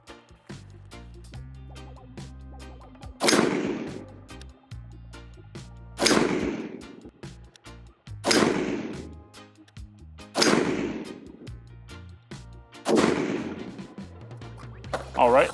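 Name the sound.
AR-15 rifle firing Federal 73 grain .223 ammunition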